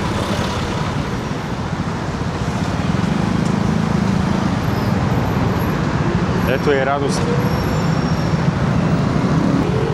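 Steady roar of dense Bangkok street traffic heard from a motorbike in motion, engine and road noise constant throughout, with people talking over it and a brief squeal near the end.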